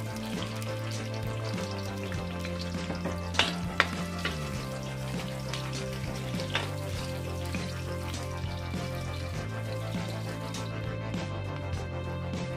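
Onions sautéing in a pan for Filipino batchoy Tagalog, after garlic: a steady, even sizzle and frying hiss runs throughout with a few soft clinks of stirring, close and continuous with no talking.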